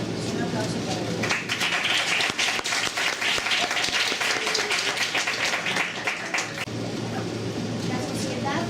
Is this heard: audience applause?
yes